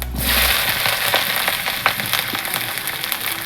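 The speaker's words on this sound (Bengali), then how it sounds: "ভেজে নেওয়ার জন্য একটু পাঁচ ফোড়ন দিয়ে দিচ্ছি আর এই পেঁয়াজগুলো দিয়ে দিচ্ছি" Sliced onions and panch phoron spices frying in hot oil in a pan for a Bengali ridge gourd and sesame curry, a steady close sizzle with scattered crackles and pops, no voices.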